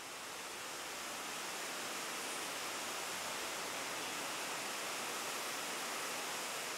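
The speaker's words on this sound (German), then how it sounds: "Bei der Dusche per Hochdruckreiniger kontrolliert das Pflegerteam" A high-pressure washer blasts water onto elephants at Hagenbeck zoo, a steady, loud broadband hiss of spray that holds evenly throughout with no pauses and no voices.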